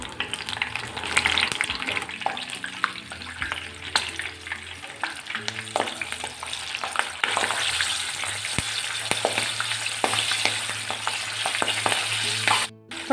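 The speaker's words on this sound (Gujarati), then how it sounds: "વડા સાથે ખાવા માટે હવે અહીંયા આપણે થોડા લીલા મરચાં પણ તળી" Green chillies frying in hot oil after a batch of dal vada, a steady crackling sizzle with stirring clatter throughout, close and fairly loud, with a low hum underneath.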